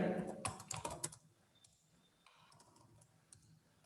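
Quick bursts of close keystrokes on a computer keyboard while typing a title, busy at first and then thinning to a few scattered light clicks.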